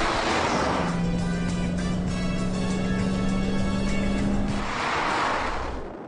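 A Volkswagen Sportline short-wheelbase van accelerating hard, its engine note rising steadily and loud throughout, with a droning hum and rushing road and wind noise that swells and eases.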